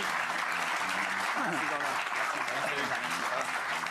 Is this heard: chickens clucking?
no